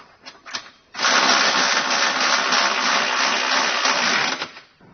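A power tool with a socket tightens trailer hitch bolts on the frame of a 2023 Honda Passport, a few brief clicks giving way to a loud, steady whirring drone that lasts several seconds.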